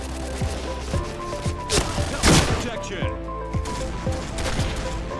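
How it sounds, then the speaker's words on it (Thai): Gunfire in a shooter video game with sniper rifles in play, sharp repeated shots and bursts over a steady background of game sound and music, with one louder crack near the middle. "เหมือนห้องนี้เขาเล่นสไนกันนะนี่"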